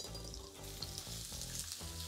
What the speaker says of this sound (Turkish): Tavaya biraz zeytinyağı ve soğanlar içeri.